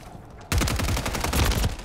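Gunfire in Call of Duty MW3 during a Hardpoint match: after a short quiet stretch, a sudden loud run of rapid automatic shots rattles on close and steady until the end, with no talking.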